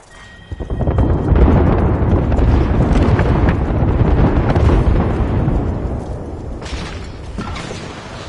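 Sustained gunfire and explosive bursts in the Apex Legends video game, a loud dense roar of rapid shots and booms lasting several seconds before easing off.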